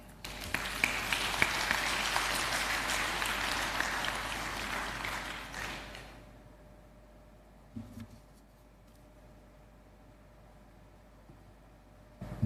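Dense applause from the audience at a university convocation ceremony rolls on loudly for about six seconds, then dies away into a quiet hall with a few faint bumps.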